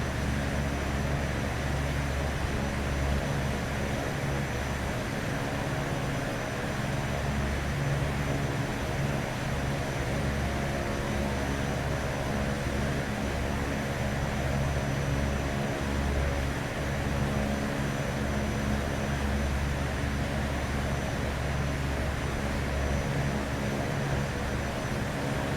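Twin propeller engines of an Embraer 110 in cruise flight, rendered by the X-Plane 10 simulator: a constant loud droning hum with a low rhythmic throb, unbroken and without voices throughout.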